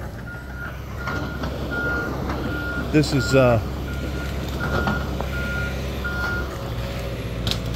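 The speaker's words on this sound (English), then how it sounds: "sounding like a heavy load beeping, but I didn't know it was the bus" Reversing beeps from a bus on a rainy road where a fallen tree has come down, a steady series of repeated tones over heavy traffic and rain noise, with a brief vehicle or brake sound midway and a voice speaking briefly.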